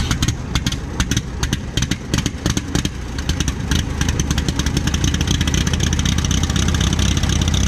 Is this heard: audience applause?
no